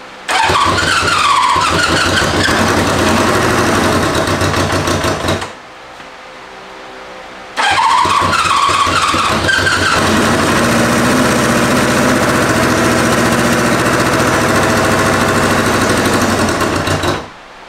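A motorcycle left unwinterized starts on choke and runs loud and rough, revving unevenly. Its engine note drops out for about two seconds, then catches again and keeps running hard to the end.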